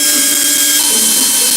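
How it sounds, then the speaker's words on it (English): A portable bandsaw cutting into metal gives off a steady, harsh high-pitched whine and grinding buzz that holds continuously and loud from start to finish. "He goes right to the portable bandsaw."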